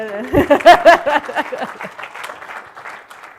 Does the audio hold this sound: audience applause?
yes